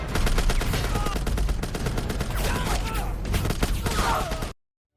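Dense automatic gunfire in a prison-escape film battle scene with guards, loud rapid bursts packed throughout, then an abrupt cut to silence.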